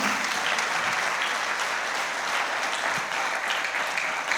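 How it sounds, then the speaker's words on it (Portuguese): A church congregation applauds steadily throughout, a dense, even clapping that holds at the same level without pause. "Quantos podem aplaudir a Jesus nesta manhã?"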